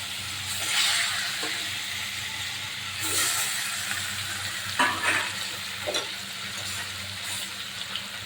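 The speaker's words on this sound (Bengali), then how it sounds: "হালকা করে ভাজবো, বেশি ভাজবো না।" Katla fish pieces fry lightly in hot oil in a pan, making a continuous soft sizzle with a few louder spitting bursts and occasional scraping as the pieces are moved.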